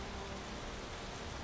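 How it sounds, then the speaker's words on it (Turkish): Steady rain in the Space Engineers video game, a dense even hiss of falling drops with no breaks, heard alone at low volume. "Niye yağmur başlıyor yine ya?"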